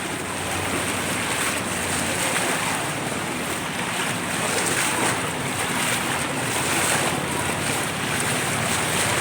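Strong floodwater rushes in a steady, loud broadband roar, a continuous surging flow with wind buffeting the microphone and no talk over it.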